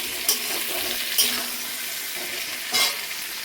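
Potatoes being stirred and fried in a pan for a tangra fish dish: continuous close sizzling broken by three sharp scraping stirs of the utensil, no speech.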